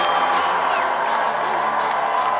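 Crowd of more than 2,000 cheering at a Pete Buttigieg campaign rally in Des Moines on the eve of the Iowa caucuses: a dense, continuous roar of voices and whoops with some clapping, loud and unbroken throughout.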